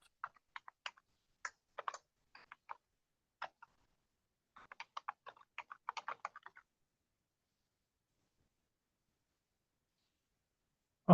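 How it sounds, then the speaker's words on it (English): Computer keyboard typing in scattered quick bursts of crisp close clicks separated by silent pauses, ending in a single sharp click. "we'll use the keyboard as the sign for us to be ready."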